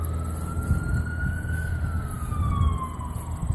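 An ambulance siren wails as it passes by in traffic, a long sweeping tone rising and then falling away, moderately loud over a steady low rumble of road noise.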